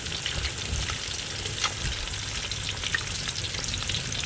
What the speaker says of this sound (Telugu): చాలా జాగ్రత్తగా తిప్పుకోవాలి చేపనట, ఎందుకంటే ఒక పక్కనే కాలుతున్నాయి కాబట్టి మరో పక్క కాలాలి